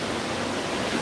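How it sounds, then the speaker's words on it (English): A creek swollen by floodwater, roaring like a river, gives a steady, loud, broadband rush of churning water that fills the whole second with no voices over it. "I live right next to a creek, which right now sounds like it's a river, like a roaring river."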